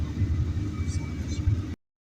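A Turkish dolmuş minibus engine rumbles low and steady from inside while riding, a continuous droning hum with slight fluctuations that cuts off abruptly.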